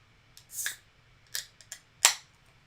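A bottle of Pepper soda being opened: a few short, crisp hissing snaps and a sharp pop of released fizz, close and quiet, with no talking.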